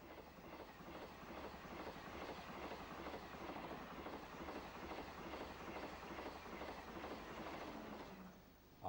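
A train rolls along the rails for several seconds, a steady rhythmic clickety-clack of wheels over rail joints, loud and close, easing off at the end.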